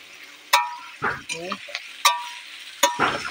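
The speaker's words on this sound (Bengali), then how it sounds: "তেলে ভালো করে কষবে আলুটা" Potatoes fry and sizzle in hot oil in a Bengali fish curry being made, with a soft crackle beneath a few sharp metallic clinks and scrapes of a spoon stirring the pan, plus brief bits of speech.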